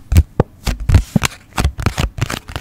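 Close, sticky tapping and gripping sounds from fingers on a surface, in quick irregular bursts with short pauses between.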